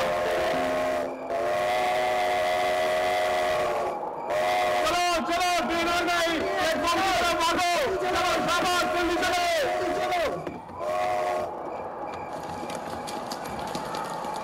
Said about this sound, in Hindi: चलो राजा, ट्रेन आ गई।